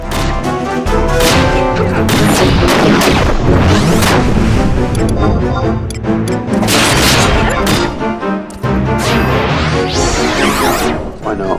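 Final Fantasy XI boss battle combat, with dense, loud booming and crashing weapon-skill impacts and spell effects layered continuously over game music, with a voice talking intermittently beneath.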